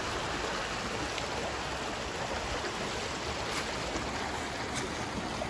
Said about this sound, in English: And the spring comes out here and it comes together with the creek.